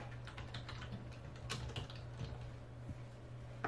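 A password is typed on a computer keyboard, a quiet, steady patter of soft key clicks with a low hum beneath and no voices.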